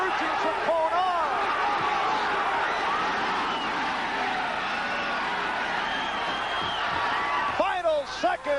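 A boxing crowd roars in a steady, loud wash of cheering and shouting as Bobby Chacon fights Cornelius Boza-Edwards, a commentator talking over the noise at the start and end.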